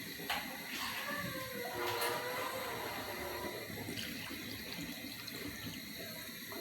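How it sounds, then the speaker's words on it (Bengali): Water poured into a pan of potatoes on the stove for boiling, a steady watery pour and splash running throughout, with some faint background noise. "পরিমাণ মতো কিছু সিদ্ধ হবার সমান কিছু পানি দিয়ে দেব।"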